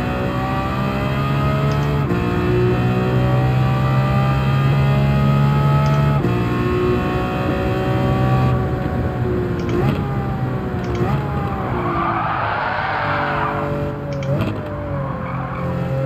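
A Lamborghini Veneno engine in Gran Turismo 7 roars at high revs, with gear shifts dropping and climbing in pitch and a brief tire squeal near the end; loud and continuous.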